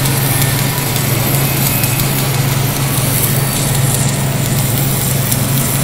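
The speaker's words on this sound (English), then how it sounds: "We are now welding at 400 ampere and at 30 volts" Steady, loud drone of a Lincoln LT-7 tractor welding setup running at 400 amps and 30 volts, a constant low hum with arc hiss above, continuous and close with no talk.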